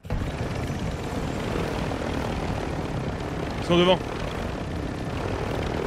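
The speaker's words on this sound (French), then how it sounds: "Je vais prendre l'hélico, on va voir." A helicopter in Call of Duty Warzone gives off a steady, close rotor-and-engine drone. A short voice cuts in briefly.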